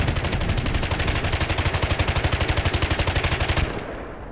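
A burst of rapid, evenly spaced shots lasts about three and a half seconds, then cuts off. It comes from an AAA anti-aircraft gun firing at A-10 jets in DCS World.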